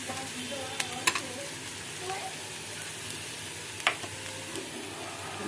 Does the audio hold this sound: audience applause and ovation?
no